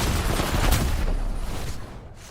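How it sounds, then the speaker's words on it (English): Dense gunfire in the Apex Legends shooter, a sustained rattle of shots that is loud and close at first, then thins out and fades over the last second. "Someone else is shooting me in my back."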